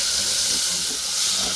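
Onion and tomato hitting a hot pan after garlic, producing a loud, broad, continuous hiss of sizzling steam that holds steady throughout.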